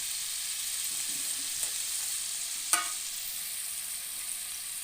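Ground masala frying for a fish curry, a faint, even sizzle with a couple of soft stirring clicks and one sharper scrape partway through.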